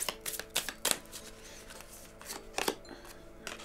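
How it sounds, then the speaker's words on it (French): Tarot cards shuffled close up before two extra cards are laid out, crisp riffling and tapping bursts spaced unevenly over a low background hum, quiet overall. "Et on va mettre 2 petites cartes pour un message supplémentaire."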